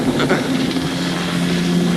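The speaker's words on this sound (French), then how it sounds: "ça souffle un hélicoptère" Close helicopter rotor wash roars as a dense, steady rush of wind and engine noise, loud and unbroken throughout.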